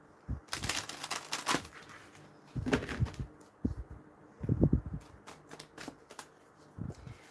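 Tarot cards are shuffled in bursts of riffling and soft slapping, with short pauses between, close and fairly quiet.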